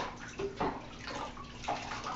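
Water poured over a cat in a bubble bath, giving soft splashing and sloshing in bursts, fairly quiet and close.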